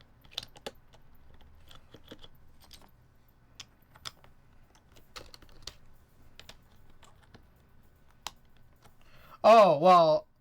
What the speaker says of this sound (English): I'm not gonna spend a whole lot of time typing on this.